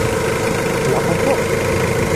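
A Mitsubishi Adventure engine, checked for a suspected head gasket problem, runs at a steady idle close by, a dense continuous rumble with voices faintly over it.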